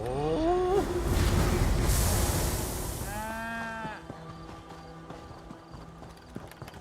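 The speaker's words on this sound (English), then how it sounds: "Go chase down this sheep here." Sheep in the video game Elder Scrolls Online give short, wavering bleats at the start and again midway, over busy in-game noise with rapid hoof-like clopping as the animal runs off.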